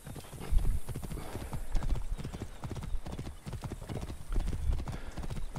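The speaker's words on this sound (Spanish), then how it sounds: "vamos a llamar ahora a nuestro caballito" Horse hooves galloping at a steady clip-clop rhythm inside the Assassin's Creed Origins video game world, with the pounding hoofbeats loud and close under background game ambience and an occasional snort.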